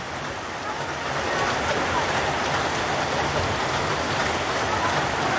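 Heavy rain pours steadily in a dense, loud hiss that swells after the first second and holds without pause.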